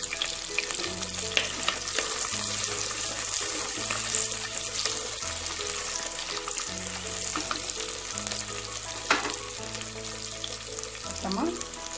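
Crushed garlic fries in hot sesame oil with vadagam, giving a steady crackling sizzle and occasional stirring scrapes under soft background music.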